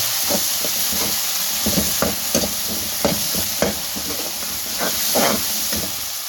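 Tomatoes and green chillies stir-fried with roasted eggplant for bhuna baingan bharta, a steady frying hiss with scattered spoon scrapes and stirring knocks against the pan, close and continuous with no talk.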